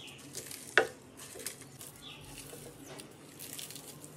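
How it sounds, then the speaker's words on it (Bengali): Dried fish mash with salt and roasted cumin powder is stirred in a pan over the heat, giving a faint, soft sizzle and scraping stir strokes, with one sharper clink of the utensil early on. "এখন এগুলো একটু কষিয়ে নিব।"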